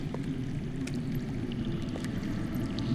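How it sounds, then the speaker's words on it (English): Underground water flowing in the Game of Thrones Telltale video game, a steady broad rushing wash with low gurgling that holds evenly throughout, with a few faint clicks on top. "That's water. I hear water. From underground."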